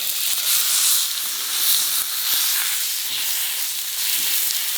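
Tomahawk steaks sear in a hot pan at a campsite, a steady close sizzling hiss with faint crackles that carries on without break.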